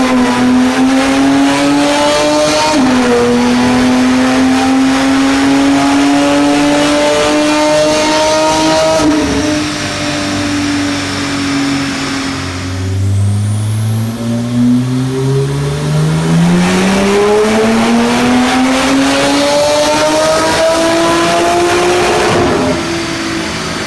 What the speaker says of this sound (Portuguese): Então esse agora é o novo ronco do 911 Turbo, com o escape completo da Secret